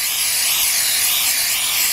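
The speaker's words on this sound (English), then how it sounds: "Spray a good amount in there." Cleaner sprays steadily into a rag during an oil pan gasket job on a 2002 BMW 745i with a 4.4 engine, a loud, continuous close-up hiss with no pauses.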